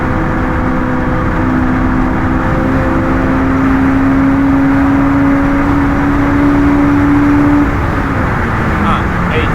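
A Honda S2000 engine holds a steady, loud drone from inside the car as it accelerates on the Nürburgring. A constant tone rises slowly and then drops near the end, with road and wind noise underneath.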